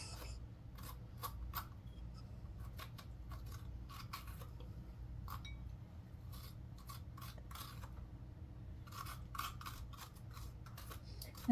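A grapefruit spoon scrapes stringy flesh out of a pumpkin half, making soft repeated rasping strokes in an irregular rhythm, close and quiet with no talk.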